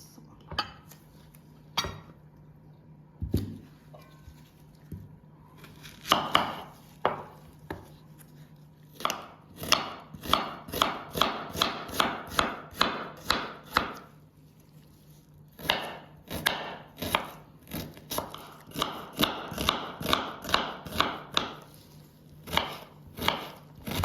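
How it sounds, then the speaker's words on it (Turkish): A knife chops onion in quick irregular runs of crisp, close taps, a few sparse cuts at first and then dense bursts separated by short pauses. "İndi ise soğanımızı doğruyoruz."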